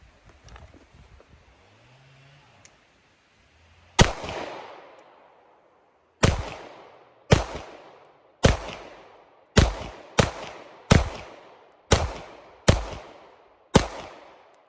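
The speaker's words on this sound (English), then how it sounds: "Let's put some more rounds through it." Beretta M9A4 pistol firing about ten rounds, sharp loud reports in an uneven rhythm with roughly one-second gaps and quick decays, after a few seconds of quiet handling noise.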